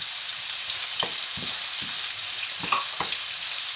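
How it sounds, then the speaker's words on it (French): Spring onions fry in a pan with a steady, close sizzle, broken by several soft scraping knocks of a utensil against the pan at irregular intervals; no one speaks. "on fait cuire les oignons"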